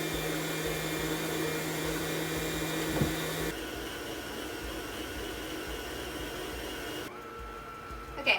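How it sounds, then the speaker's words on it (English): Electric mixer beating butter and sugar for cake batter, a steady close motor whir that drops in pitch and level partway through, then cuts down again before a small knock at the end. "So I'll stop my mixer"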